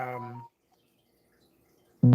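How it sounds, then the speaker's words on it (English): A phone alert sounds as a short burst of stacked tones at the start, then near-silence for about a second and a half, and then another loud tonal burst at the end. The alerts are close and no one talks. "I don't know if you guys hear my phone."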